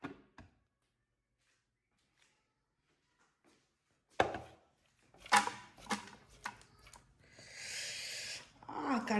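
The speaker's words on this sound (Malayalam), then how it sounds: "സവാള ഇതുപോലെ നല്ല നൈസായിട്ട് അരിഞ്ഞ് കിട്ടിയിട്ടുണ്ട്" A knife finely chopping onion on a board, a series of sharp close taps and thunks after a quiet stretch, with brief background noise and clatter.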